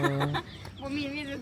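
Chickens cluck and call close by at an outdoor market, a few short bursts amid faint background voices.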